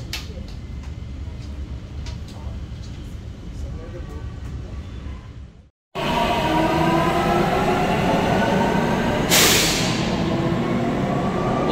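Marmaray metro train in Istanbul riding between stations, a steady loud rumble of wheels and carriage that drops out briefly midway, then returns louder with a short hissing burst, no talk over it.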